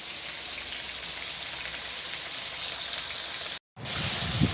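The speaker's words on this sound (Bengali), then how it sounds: "আলু পটলটা ভালো করে ভেজে নিই।" Potatoes and pointed gourd fry in a pan with a loud, continuous sizzle that holds steady, breaks off in a brief gap near the end, then resumes just as strong.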